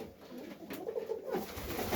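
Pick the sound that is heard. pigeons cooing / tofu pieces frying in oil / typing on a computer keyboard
pigeons cooing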